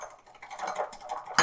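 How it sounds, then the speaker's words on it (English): Eggs whisked with salt and pepper: a brief, rapid patter of light metallic strokes against a bowl, close and moderately loud, ending in a sharper clink. "Give that a quick whisk."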